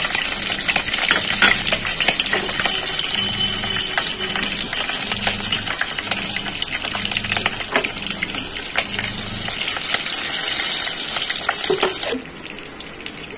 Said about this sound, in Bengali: আমি কালো জিরে আর কাঁচা লঙ্কা চেরাটা ফোড়নে দিয়ে দেবো।